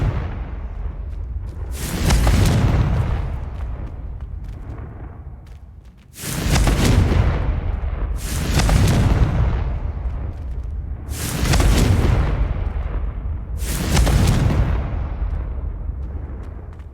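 Four heavy booming blasts from the Confringo explosion spell in Hogwarts Legacy, each a sharp loud burst followed by a rumbling decay, spaced about four seconds apart.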